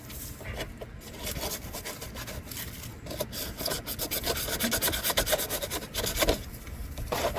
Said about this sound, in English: All right, so I'm gonna do a little bit of scuffing it up.